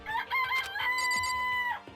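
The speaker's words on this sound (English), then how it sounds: "It's a chicken!" A chicken in the video game Danganronpa crows and clucks in a short, loud game sound effect, with a sustained crowing call after brief clucks.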